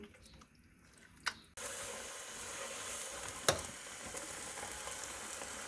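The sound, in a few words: spinach and mutton (palak gosht) cooking in a pot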